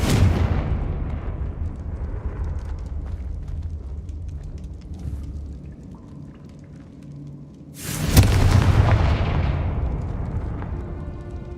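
Confringo blasting spell from the video game Hogwarts Legacy: a heavy, booming explosion opens, its rumble slowly fading, then a second loud burst erupts near the end with crackling debris tailing off.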